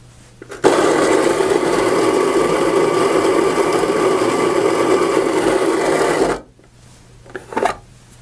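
A Baratza Encore coffee grinder runs through a few ounces of coffee beans with a loud, steady whirring grind for about six seconds, then stops abruptly, leaving a few small clicks and rattles.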